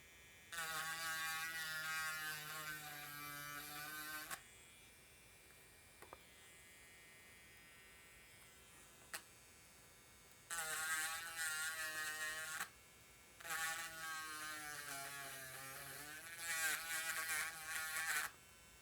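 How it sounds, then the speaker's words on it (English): Working on a PS Vita 2000 shell, a Dremel rotary tool whines at high pitch in three bursts, one lasting several seconds, then two shorter passes after a quiet gap with small clicks. "I like to be very careful with this one because the nicer you Dremel it out"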